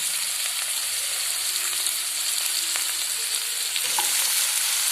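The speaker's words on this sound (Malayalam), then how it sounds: "സവോള, ഇട്ട ശേഷം നല്ലപോലെ ഇളക്കുക." Sliced onions with chopped garlic sizzle steadily in a hot pan for a tomato fry, with occasional soft scrapes of stirring heard close up and no voices.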